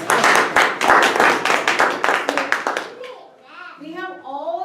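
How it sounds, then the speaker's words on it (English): A small group at a Toastmasters mock contest claps for the judges, a short burst of close, distinct handclaps that fades out, followed by people talking. "Let us give them a round of applause."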